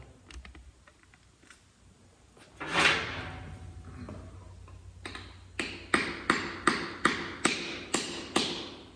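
Sharp metallic hammer strikes ring out in a steady series of about eight hits, driving a wedge into a hammer handle, preceded by a brief scraping rustle, close and fairly loud.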